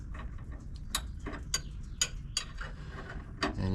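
A box ratcheting wrench clicks in sharp, separate ticks while turning the torsion bar adjuster on a 1969 Dodge Charger, about seven close metallic clicks at an uneven pace over a low background hum.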